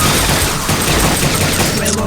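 Rapid, continuous gunfire from the video game Dino Stalker fills the whole moment, loud and dense with overlapping shots and booms.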